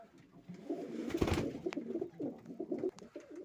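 Pigeons coo softly in repeated low calls, fairly close and quiet, with a brief louder rustle partway through.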